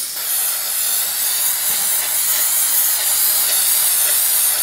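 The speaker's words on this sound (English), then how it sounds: "I'm going to put a layer of workable fixative on this. This is the Blair very low odor spray fixative." Blair low odor workable spray fixative hissing from an aerosol can in one continuous, close, steady spray lasting several seconds, with no talking.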